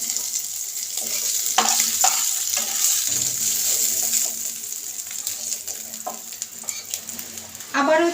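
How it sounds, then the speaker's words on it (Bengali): Prawns sizzle and crackle steadily in hot oil in a pan, a close, continuous frying hiss with occasional stirring scrapes and a brief clatter near the end. "আবারও ফিরে আসলাম, মাছ ভাজা হয়ে গেছে"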